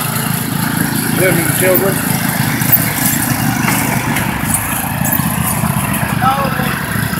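Racing lawn mower engines drone steadily at a distance through a race, a continuous mid-pitched motor hum under constant crowd noise and nearby talking voices.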